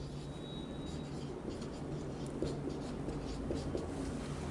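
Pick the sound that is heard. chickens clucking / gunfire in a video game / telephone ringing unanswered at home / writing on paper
writing on paper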